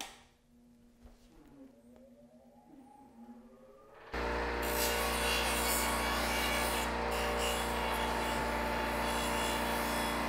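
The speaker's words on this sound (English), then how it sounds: "We do that on the grinder." After about four seconds of quiet handling, a bench grinder starts and runs loud and steady while it bevels and rounds the edge of half-inch tubing, a continuous grinding roar through to the end.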